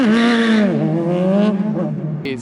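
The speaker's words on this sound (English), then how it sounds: "That burnout made the tire too sticky." An EK Honda Civic on cold ground gives a short, loud rising whine, a burnout with the engine screaming and tires spinning. It is brief and close, ending in a sharp high blip.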